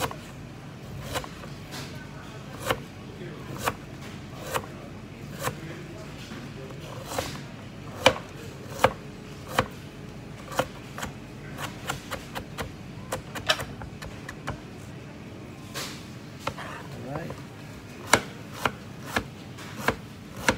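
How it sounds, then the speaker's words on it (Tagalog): A knife thinly slices purple cabbage on a board, making irregular, fairly quiet chopping taps spread throughout with short pauses between. "tapos na ako hiwa ng purple cabbage"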